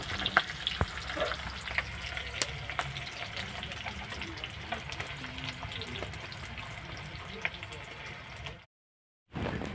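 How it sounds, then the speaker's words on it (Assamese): Chopped onion fries in oil with a bay leaf, giving a dense, continuous crackle and hiss. Scattered scraping clicks come from stirring, and the sizzle cuts out briefly near the end. "এয়া পিঁয়াজ চিকুৰি দি এয়া মায়ে অকণমান লৰাই দিছে।"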